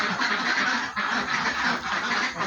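Ducks in a dry coop quacking loudly and continuously, a dense chorus of many birds close by with no pauses.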